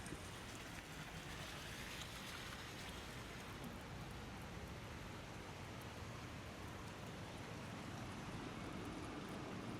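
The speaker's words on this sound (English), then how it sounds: "No, I can't go in the rain." Rain falls steadily as a broad, even hiss outdoors near a shopping mall in Penang, Malaysia. The sound stays constant and moderately faint throughout, with no voices over it.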